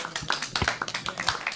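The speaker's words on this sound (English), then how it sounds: "We're ready to applaud." Class applause at the end of a meeting, a modest group clapping in close, uneven bursts of sharp claps lasting under two seconds, with no talking over it.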